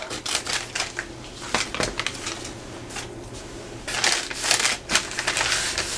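Paper trimmed from a St. Patrick's Day treat bag gives off crisp, rustling snips and crinkles in uneven bursts, close and fairly quiet, growing busier near the end.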